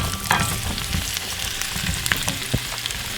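Sliced zucchini hitting hot olive oil with garlic in a pan sets off a steady, close sizzle and frying crackle, with a few stirring knocks on top.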